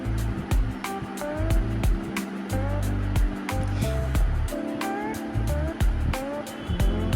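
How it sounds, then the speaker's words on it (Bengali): Pre-fried prawns go into a hot pan for a Bengali dish, and a steady, close sizzling hiss rises and fades across several seconds beneath background music and occasional speech. "এবার ভেজে রাখা চিংড়িগুলো দিয়ে দেব।"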